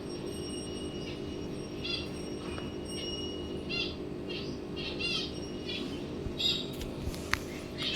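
Pet budgerigars chirping indoors, scattered short tweets and trills over a low steady background hum, fairly faint and irregular.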